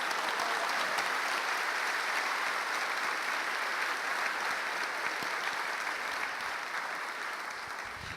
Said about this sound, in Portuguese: Quantos podem dar um aplauso ao Senhor por causa da sua palavra?